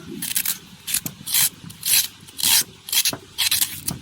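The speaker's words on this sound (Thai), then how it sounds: "ก็ใช้ช้อนแกงนะครับ ขูดเอาแต่ข้างในนะครับ" A curry spoon scrapes the soft inner flesh from a large halved melon being prepared for a northern Thai melon salad, giving repeated close, rasping strokes in a steady rhythm of about eight short bursts.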